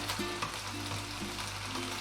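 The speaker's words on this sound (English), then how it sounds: "It's cooking, it's sizzling." Bacon sizzles and crackles steadily in a hot pan, with a low hum and a few faint scraping sounds underneath.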